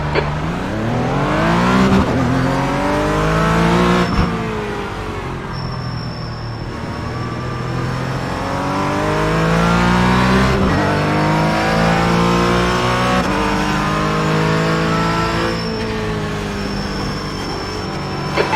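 Porsche Cayman GT4 race car in a sim racing game on the Nürburgring, engine droning loudly throughout with repeated rising rev sweeps and gear-change dips, steady and close with no talk.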